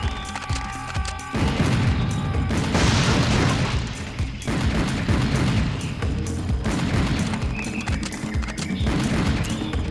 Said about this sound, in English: Okay, we got suicide bombers.